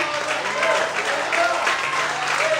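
A church congregation applauds in steady, continuous clapping, with voices mixed into the crowd noise throughout.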